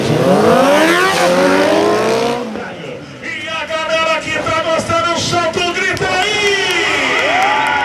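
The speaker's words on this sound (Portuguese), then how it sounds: "E a galera que tá gostando, solta o grito!" A loud crowd at a motorcycle stunt show in Artur Nogueira, Brazil, shouts and cheers over roaring engines, with the racket dipping briefly before surging back.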